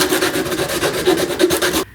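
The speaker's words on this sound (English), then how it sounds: "I need to clean up the hole a bit with a rat tail file." A rat tail file rasps rapidly back and forth inside a hole in a 3D printed plastic part, close and steady for nearly two seconds before stopping abruptly.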